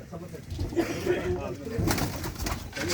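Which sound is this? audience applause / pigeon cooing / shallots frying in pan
pigeon cooing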